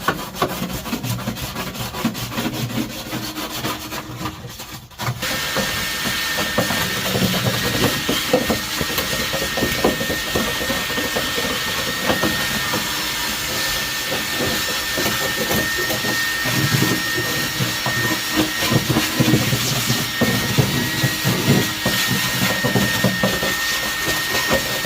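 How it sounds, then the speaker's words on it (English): A shop vacuum running loud and steady while cleaning and brushing the welded spare tire tub of a CRX, with a brief dip near the start, then a constant rushing drone with scraping and rubbing. "so you guys just saw me vacuuming, brushing this tub, the spare tire tub where we did all the welding"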